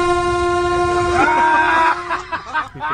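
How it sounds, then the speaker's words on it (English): Train approaching with its horn blowing, a loud sustained multi-tone blast that bends in pitch as it nears, then cuts off into rumbling and clatter. "A train coming at you with a horn."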